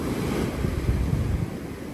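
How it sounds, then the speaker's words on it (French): Ocean surf at a beach in Half Moon Bay, a close, steady rush of breaking waves and foam mixed with wind buffeting the microphone, with no voices. "Je regarde les vagues, je regarde l'écume des vagues."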